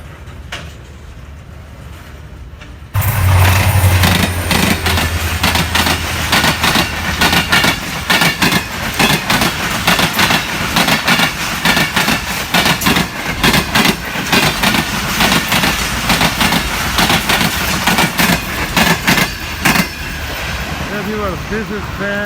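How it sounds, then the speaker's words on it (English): A fast cargo train on a Pakistan railway line running from Karachi toward Punjab thunders past close by after a quiet start, with a dense, loud roar and steady clattering of wheels over rail joints that lasts throughout. "This is train going to Punjab from Karachi. Very fast."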